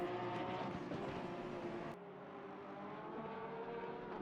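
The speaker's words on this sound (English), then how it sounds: "A couple of Porsches going at it." Porsche race cars battling on track in a sim racing game at the Hungaroring, with a faint, steady engine roar and a sudden cut or shift in the sound partway through.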